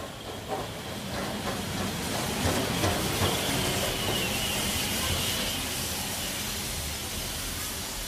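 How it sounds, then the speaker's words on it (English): A steam train chugs along the track with continuous hissing and rumbling, a steady rhythmic puffing held at moderate distance and sustained for several seconds. "The train puffs down the track."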